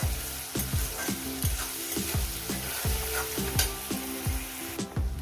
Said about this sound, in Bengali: দিয়ে এটাকে আমি দেড় থেকে দু মিনিট একটু ভেজে নেব